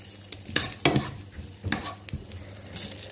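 Food fries in a pan on high heat, a crackling sizzle broken by several sharp scrapes and clatters of stirring, close and fairly loud with no talk.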